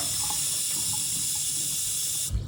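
Tap water runs steadily into a bowl in a kitchen, a constant close hiss of pouring liquid that cuts off abruptly near the end.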